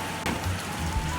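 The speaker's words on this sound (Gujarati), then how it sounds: "એ કાંઈ હવે વરસાદનો અવાજ આવવાનો શરૂ થયું." Heavy rain pours down outside a showroom, a steady, dense hiss heard from indoors with no voices over it.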